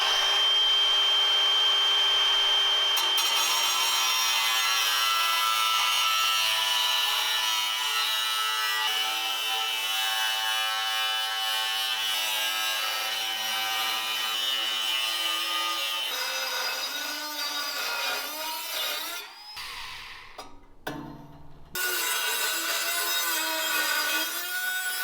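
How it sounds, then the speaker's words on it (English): A Dremel rotary tool cuts a square chunk out of a Honda Talon rear bumper, a steady loud high-pitched whine that runs almost without a break, briefly dropping out near the end before resuming. "we're going to cut that square chunk out. We'll do that with a Dremel"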